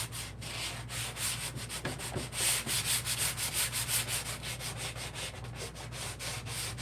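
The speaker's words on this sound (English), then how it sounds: "when you distress them with a sanding block" Rhythmic back-and-forth scratching of a sanding block distressing a waxed wooden dresser, close up and steady, with a low hum underneath.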